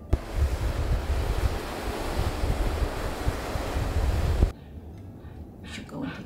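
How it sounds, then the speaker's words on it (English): Slushy, icy sea water washing ashore near a cabin in Svalbard on a cold winter morning, a loud continuous surf-like rush with wind buffeting the microphone that drops abruptly to a quieter lapping near the end. "But now it's that cool, super crispy, slushy water."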